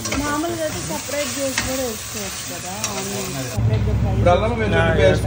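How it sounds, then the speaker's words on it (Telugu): Onions for gongura chicken biryani sizzle steadily in a pan while a person talks over them, the frying hiss swelling louder near the end. "సో ఇప్పుడు ఏంటంటే ఆనియన్స్ ఫ్రై అయినాయి."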